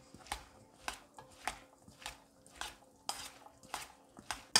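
Salad ingredients being tossed and mixed together in a bowl in a Tunisian kitchen, giving a steady run of sharp scraping and clinking strokes, roughly two per second, close and fairly loud with no voices.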